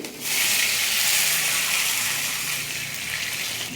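One and a half glasses of water are poured into a hot pan of cumin, ginger-garlic paste and chopped green chillies, making a loud, continuous rushing hiss and sizzle that holds steady for a few seconds.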